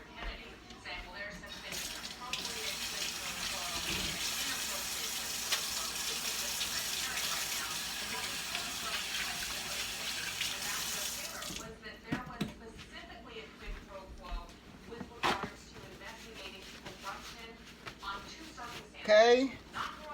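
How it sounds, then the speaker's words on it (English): Water runs from a kitchen sink tap while hands are washed, a steady broadband gush lasting about twelve seconds before shutting off, followed by quieter kitchen clatter and a few brief handling sounds. "Let me wash my hands."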